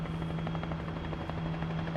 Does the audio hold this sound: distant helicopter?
yes